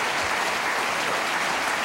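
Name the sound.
TV studio audience applause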